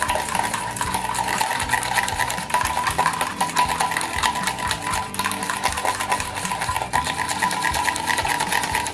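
An electric mixer whirs steadily and loudly through homemade mayonnaise after oil is added, a continuous close motor drone with rattling bowl texture throughout.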